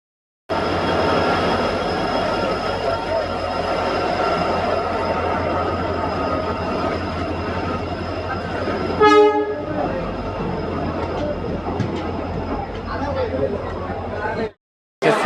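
A train pulls through a busy railway station platform, its engine and wheels giving a loud steady rumble and one short horn-like burst midway, with people talking over it.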